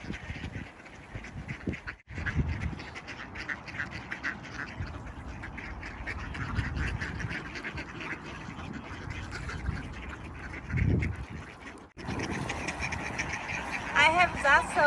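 Ducks and geese quack busily while being fed, many overlapping calls forming a lively, continuous chorus, with a person talking over the flock.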